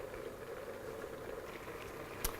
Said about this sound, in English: oh wow, that's boiling.